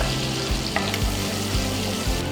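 Garlic frying in butter in a pan, a close, loud sizzle with stirring scrapes and a few soft clinks against the pan, no voices.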